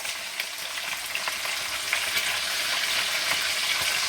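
Oxtail beef browns in a frying pan with a continuous close, hissing sizzle and scattered small pops and crackles, steady throughout with no voices.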